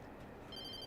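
A telephone rings in the video game Alan Wake Remastered, a brief, faint electronic bell tone that starts partway through and sits over a low background hum.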